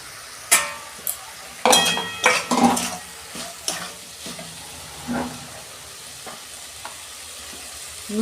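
Prawns dropped into a hot pan for a bottle gourd and prawn curry, giving a burst of close sizzling and frying with spoon clinks and stirring scrapes that fade to a softer sizzle.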